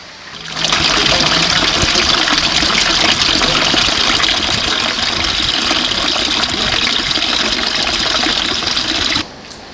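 Water from Wilderswil, Switzerland flows in a steady, loud rushing stream that starts abruptly, runs evenly without voices and cuts off just before the end.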